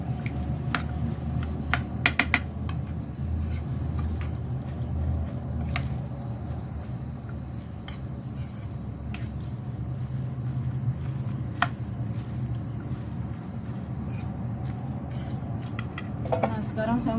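A utensil scrapes and clinks against a bowl while tofu and other ingredients are stirred together, a steady run of close, light knocks and scraping with a few sharper taps.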